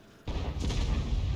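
A tank cannon shot in World of Tanks fired from a Bat.-Châtillon 155 55 artillery vehicle, with one sudden loud boom that rolls into a sustained rumbling blast lasting over a second.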